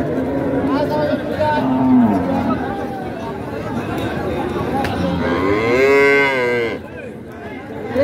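Dairy cows and calves low and moo at a busy rural cattle market, one long drawn-out moo rising above steady crowd chatter and people talking nearby.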